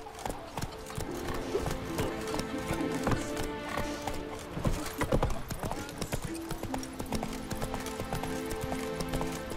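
Roach the horse clip-clops at a steady walking gait in The Witcher 3, hooves striking in a continuous rhythm with a game music bed and a voice speaking over it.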